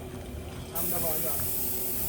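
Spray gun coating the metal body of a bus under construction, a steady loud hiss of paint spray that starts abruptly and runs continuously, with faint voices in the background.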